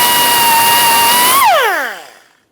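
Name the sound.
air-powered cutoff wheel (whizzer) cutting lines into ball joint rivets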